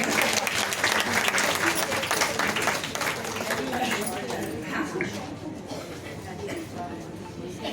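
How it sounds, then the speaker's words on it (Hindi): Loud applause fills a hall at a Nagari Lipi Parishad convention as a guest is honoured, dense and sustained before slowly thinning, with a voice speaking faintly underneath. "अभिनंदन करेंगे जोरदार तालियों के साथ।"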